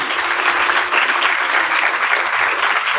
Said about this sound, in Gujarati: આપણે સૌ ઈ વખત जोरदार તાળીઓના નાદ સાથે આ બહુત બિરદાવીએ